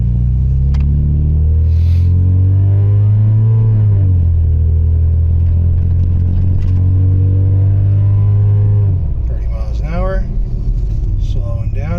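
A car brakes to a stop during a Duralast Elite brake pad test, its engine droning then falling in pitch as it slows, heard from inside the cabin with someone talking over it.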